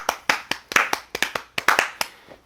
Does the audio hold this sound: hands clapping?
yes